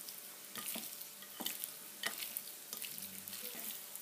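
Chicken being mixed with pepper, paprika and garlic powder in a bowl: soft, irregular wet stirring and squelching strokes, close and fairly quiet, with a faint steady hum beneath.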